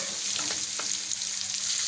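Ginger garlic paste and white cumin sizzle in hot oil while a spoon stirs and scrapes through them, a steady close frying hiss with a few clicks from the spoon.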